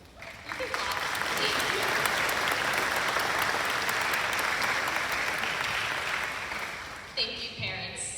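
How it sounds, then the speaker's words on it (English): An audience at a graduation ceremony bursts into sustained applause, a dense wash of clapping that swells, holds for several seconds and tapers off as a voice returns near the end. "You can clap."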